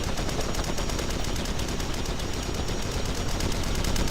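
Rapid, dense automatic gunfire from the online shooter Red Crucible Firestorm, a loud unbroken stream of shots with a fast regular rhythm lasting throughout, with no talking over it.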